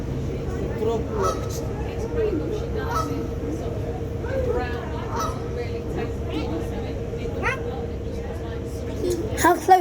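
Ducks honking and quacking close to a small boat on a trip under a bridge, repeated calls scattered through steady engine or water rumble, with children and adults talking over them.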